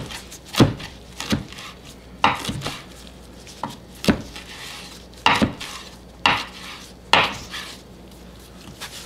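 Leaves being sliced with a knife on a cutting board, roughly eight sharp, close knocks at uneven intervals with quiet scraping between them.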